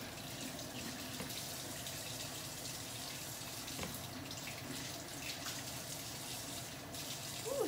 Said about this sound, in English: So I gotta wash these. Always wash your fruit